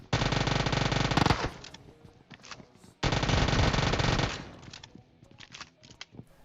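UZI submachine gun fire in the mobile battle royale game PUBG Mobile: two long, loud, continuous automatic bursts, each about one and a half seconds, separated by a pause, followed by scattered shots and clatter.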